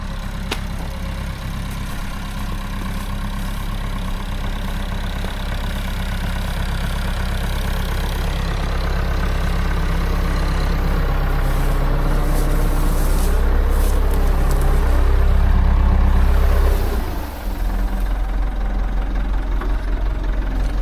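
A farm tractor engine runs steadily at idle with a low, knocking rumble, continuous and close for the whole stretch, swelling slightly before a brief dip near the end.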